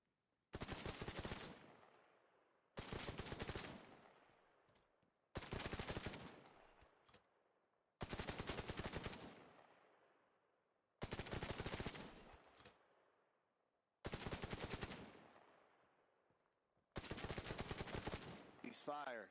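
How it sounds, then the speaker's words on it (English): A machine gun on a firing range fires seven controlled bursts, each a loud rattling string of shots about a second long, separated by brief silences at an even rhythm. "I want you to show them how you handle controlled bursts with an MG."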